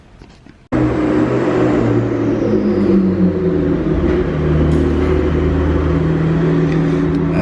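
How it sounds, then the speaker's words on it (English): A McLaren 12C sports car engine starts with an abrupt roar and then holds a loud, steady idle close by. A deep drone with a droning upper tone and a slight falling pitch drift runs throughout, with no voices. "That's my neighbor's McLaren 12C. It's pretty baller. He has the nicest car here. Sounds good."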